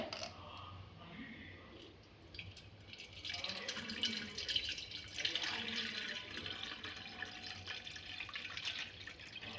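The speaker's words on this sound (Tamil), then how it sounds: "ஃபஸ்ட்டு தண்ணி ஊற்றி வச்சிடலாங்க" Water pours and splashes faintly into a 1.5-litre electric kettle, a soft continuous trickle with small drips, fairly quiet and close.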